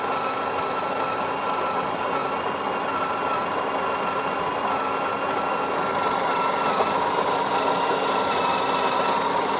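A Breville espresso machine's built-in grinder grinding coffee beans, a steady, continuous motorized whir holding at an even level throughout.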